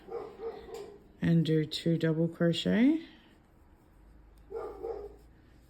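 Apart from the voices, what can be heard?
dog barking at neighbour mowing lawn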